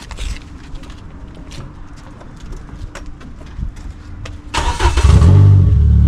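Quiet clicks and rustles give way to a Renault Clio Sport 2.0 16V 182 hp engine cranking and catching, then roaring loudly as it revs up close by.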